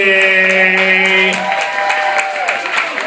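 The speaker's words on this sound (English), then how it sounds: "Give a round of applause for Tractor Brewery" A live audience at a stage show bursts into sustained clapping and cheering as a held tone fades, the applause dense and steady for a few seconds.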